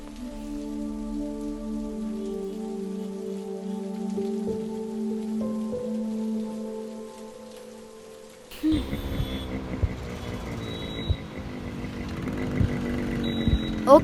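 Steady rain pours down in a dense, even hiss. It comes in loud and close partway through, after a quieter stretch of low sustained tones, with no one speaking.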